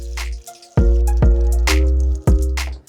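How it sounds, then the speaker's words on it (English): Capsule tops poured into the frame plate of a Pro Series 100 capsule filling machine make a loud clattering rattle with several sharp impacts across three seconds, close and alone. "Pour 100 capsule tops into the frame plate."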